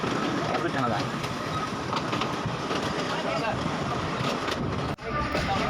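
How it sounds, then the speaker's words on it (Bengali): Passenger train travelling from Kurigram to Rangpur, heard from inside as a steady, loud rumble and rattle of the carriage, with a brief drop near the end; voices murmur faintly in the background. "আমাদের ট্রেন জার্নি শুরু হয়েছে কুড়িগ্রাম থেকে রংপুরের উদ্দেশ্যে"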